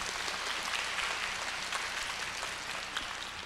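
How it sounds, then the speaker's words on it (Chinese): An audience claps together in a brief burst of applause, a dense even patter heard from a little distance, with no talking. "鼓掌。"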